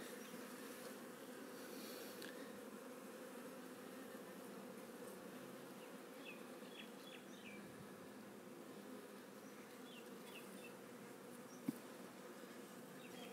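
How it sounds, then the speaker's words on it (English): Honey bees hum around an open hive frame at the edge of the brood nest, a dense, steady buzzing drone that continues throughout, close and fairly quiet. "I'll just let the bees move before I push that all the way down."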